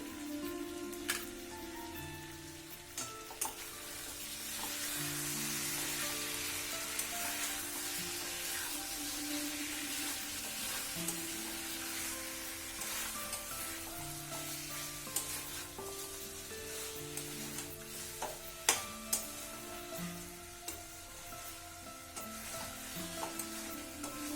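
Potatoes are added to a pan of Bengali chicken kosha and sizzle steadily in hot oil, a continuous close crackle with occasional spoon scrapes and stirring clinks, no talking.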